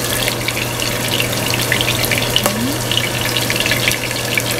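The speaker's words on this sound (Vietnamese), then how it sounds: "chiên sơ chiên cho nó chín hai mặt luôn nha các bạn" Stuffed bitter melon filled with meat fries in a pan in steady, even sizzling and crackling, close and continuous throughout with nobody talking.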